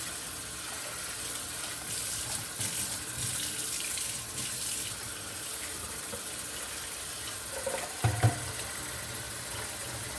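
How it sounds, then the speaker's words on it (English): Hot water runs steadily from a tap, a continuous hiss and splash that lasts throughout, with a couple of soft clunks near the end. "And I'm going to catch some more hot water."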